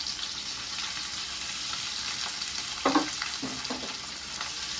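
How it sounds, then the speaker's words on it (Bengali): Chopped onion fries in hot oil with dried chillies, a steady close sizzle broken by a few scraping stirs of a spatula about midway. "পেঁয়াজটা একটু ভাজা ভাজা হোক"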